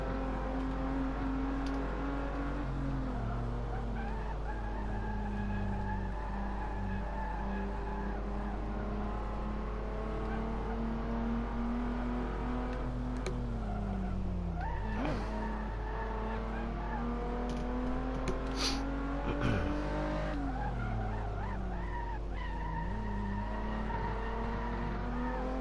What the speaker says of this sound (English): I can hear the grinding of gears.